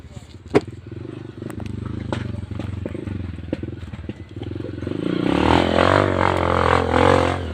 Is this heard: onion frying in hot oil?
no